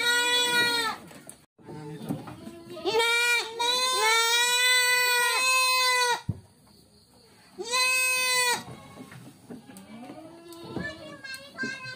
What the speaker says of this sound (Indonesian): Ini kambingnya.